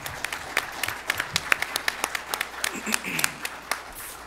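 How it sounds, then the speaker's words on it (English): Scattered audience applause at a 2013 conference keynote panel, a moderate number of separate hand claps spread irregularly across the moment, with faint murmuring voices underneath. "I actually would like to applaud Rob Reeves and the other open shop contractors in the Philadelphia area."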